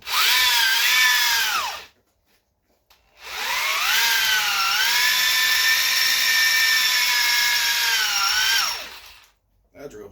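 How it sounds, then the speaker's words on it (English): A power drill with a worn bit drills while making brackets for a 1978 Camaro Z28 clutch pedal column, giving a short whining burst, a brief pause, then a longer steady whine winding down near the end. "That drill bit's shot."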